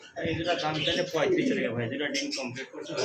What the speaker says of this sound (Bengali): খুব সুন্দর হলুদ লাউরি কবুতর আছে